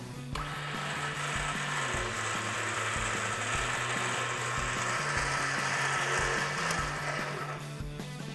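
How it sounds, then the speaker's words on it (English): A Barricade 9,500 lb electric winch on a Jeep Wrangler JL front bumper whirs as it winds in synthetic rope, a steady mechanical motor drone with a rhythmic pulsing, close and moderately loud, with no talk. "to wind it back up, you need to switch it back to engaged and click it to the in"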